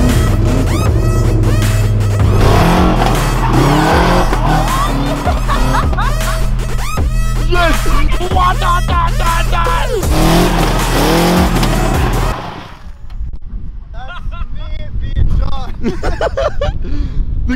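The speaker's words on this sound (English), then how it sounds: "So we're letting him try out the go kart." A ride-on adult go-kart revs loudly and skids with tire squeal up close, with excited voices talking and shouting over it before the engine noise drops away near the end.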